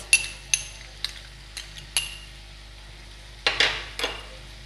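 Chilli paneer being stirred through soy, tomato and green chilli sauces in a pan, a series of sharp metal spoon scrapes and clinks against the pan at irregular intervals over a low steady background.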